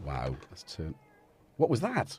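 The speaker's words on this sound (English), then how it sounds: "That was a cat." A cat meows close by, a short call at the start and another near the end, with someone speaking in between.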